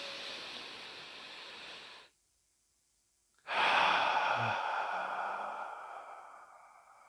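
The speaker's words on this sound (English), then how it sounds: "And then we take another deep breath in." A deep breath drawn in during a sprinter's breathing exercise: a steady, close airy rush, a silent pause of about a second and a half, then a louder, longer breath that slowly fades. No talking.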